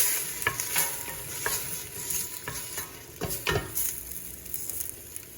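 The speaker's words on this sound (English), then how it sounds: "You hear that sizzle?" Food for a vegan chicken soup sizzles and crackles in a hot frying pan, with a few clinks and scrapes of a utensil stirring; close and moderately loud, no talking.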